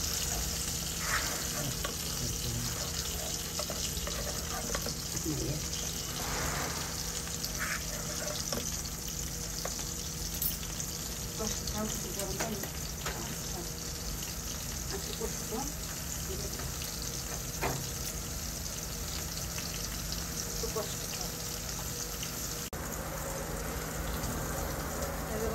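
Fish head frying in spiced oil in a home kitchen, a steady dense sizzle running throughout at moderate level, with occasional stirring clinks and brief faint voices underneath.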